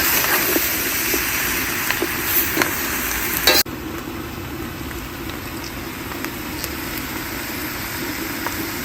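Noodles sizzle and crackle as they are stir-fried in a hot, smoking pan, a loud continuous hiss with scraping stirs and clicks, dropping suddenly to a softer sizzle partway through.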